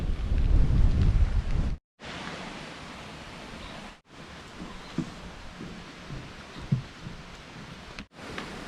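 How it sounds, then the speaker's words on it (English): Steady rain hissing outdoors on a moorland walking trail in North Yorkshire, with gusts of wind rumbling against the microphone, broken by a few brief cuts to silence. "Why am I happy that it's raining?"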